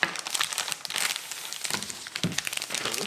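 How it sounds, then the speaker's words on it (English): Crinkly plastic packaging from a model railway sign kit rustles and crackles continuously as it is handled up close, with bursts of crumpling and no talking. "let's just pop the crinkly noisy bit to one side"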